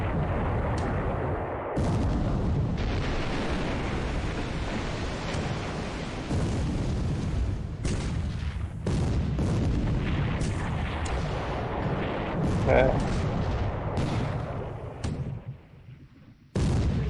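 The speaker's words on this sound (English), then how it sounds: "So, yeah, exchanging gunfire for sure." Naval gunfire and explosions in the War in the Pacific strategy game: repeated deep booms and rumbling blasts rolling one after another, loud and dense, with someone briefly speaking once.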